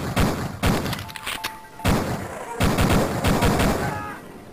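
Sniper gunfire in Duke Nukem Forever: loud bursts of shots and thudding impacts come in clusters separated by brief lulls, with game sound effects between them.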